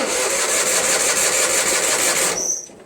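An Onan 16HP opposed twin-cylinder engine on a Toro Wheelhorse 616Z zero-turn lawn mower cranks in one steady, loud, close burst for over two seconds before cutting off abruptly.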